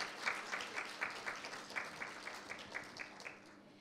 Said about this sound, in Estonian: Et teeme neile ühe suure aplausi ja täname neid selle eest.